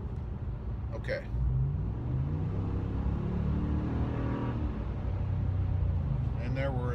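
Pickup truck in tow haul mode accelerating from about 40 mph, a steady engine rumble with a rising tone building under the cabin, heard from inside while a voice speaks briefly.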